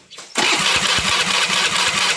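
A Honda Beat motorcycle engine catches after a brief crank during an ignition-coil test, then settles into a loud, steady close-up idle with a rapid, slightly uneven putter.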